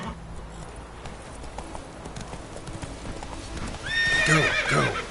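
Horse in The Witcher video game galloping with steady rhythmic hoofbeats, then a loud, close whinny near the end, with no voices.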